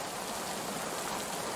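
Steady rain falls throughout an outdoor scene in the horror survival video game Case 2: Animatronics Survival, a dense continuous hiss of drops with no breaks.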